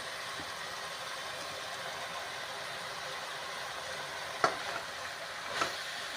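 Steady hissing sizzle of chopped spinach frying in hot spiced tempering oil, continuous and close, with a couple of brief clatters from a utensil near the end.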